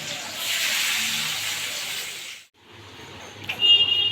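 Eggplant pieces seasoned with salt and turmeric hiss in hot oil, a steady close sizzle that drops out briefly midway and then resumes with a sharper spurt.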